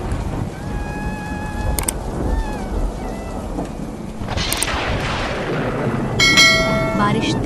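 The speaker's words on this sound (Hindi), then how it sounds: "आसमान से गिर रही हल्की फुहार अब एक मूसलाधार बारिश में बदल चुकी थी" Heavy rain pours steadily in a Hindi cartoon about a poor cart-loader caught in a storm, with rumbles of thunder and bell-like tones ringing over the constant downpour.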